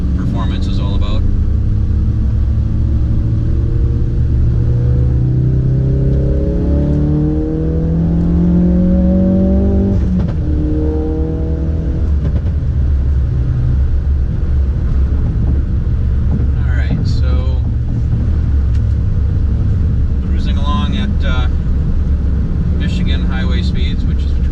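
Ford Focus RS fitted with an MRT cat-back exhaust cruising at highway speed in sixth gear, a steady low exhaust drone with rising and falling engine tones and road rumble heard from inside the car.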